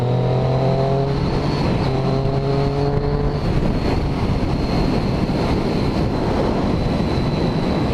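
A 2014 Triumph Street Triple motorcycle engine drones at cruising speed under heavy wind rush, its pitch stepping through a gear change before settling into a steady roar.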